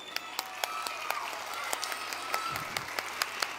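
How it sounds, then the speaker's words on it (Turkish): An audience at a book-fair talk in Aksaray applauds, a thin spread of clapping with distinct loud individual claps standing out at irregular intervals over a soft hum. "Siz de kendinizi alkışlayın"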